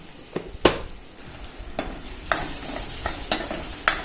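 Tomato masala being sautéed in a pan until the oil separates: a steady oily sizzle broken by a series of distinct scraping and tapping stirs of the spatula against the pan, close and fairly loud.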